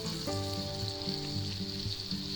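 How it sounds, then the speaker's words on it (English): Butter and garlic sizzle in a hot pan, a steady soft crackle with faint harmonic hum underneath and no voices. "And we'll melt our butter. Get that garlic in there."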